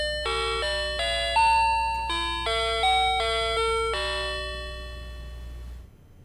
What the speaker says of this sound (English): that was the early doorbell chime that was when electronic doorbells were first invented